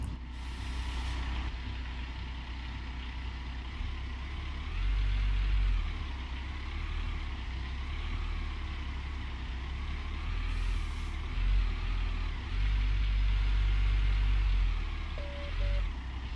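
A heavy truck in the Gold Rush mining video game idles and rumbles with a deep, steady drone, engine revving up in swells and a brief hiss of air brakes.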